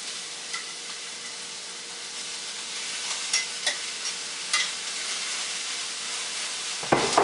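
Onions, garlic, red and green peppers and zucchini sauté in a small cast-iron skillet, giving a steady close sizzle and hiss with a few soft stirring clicks and a louder scrape near the end.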